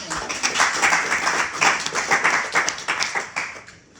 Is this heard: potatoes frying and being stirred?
no